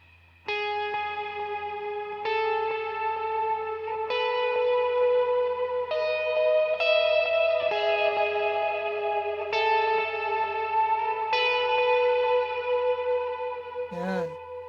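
A J-Craft Telecaster-style electric guitar runs through an amp-less rig combining delay, reverb and overdrive, ringing sustained chords that overlap and wash into each other, loud and close, with no talking until a brief sweep at the end.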